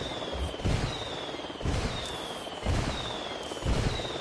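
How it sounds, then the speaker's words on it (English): Mortar rounds in Ghost Recon land as four evenly spaced booming blasts, roughly one per second, each with a sharp crack and a low rumble above a steady hissing background. "I called Pakatari for some mortar fire."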